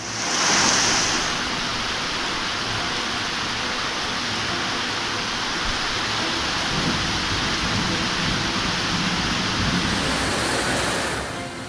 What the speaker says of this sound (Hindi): गलियों में नदी बहने लगी।